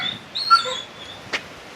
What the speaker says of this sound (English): Say hello to the doggy.